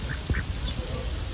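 Ducks by the sea quack in a few short, close calls over steady outdoor background noise, with no talking.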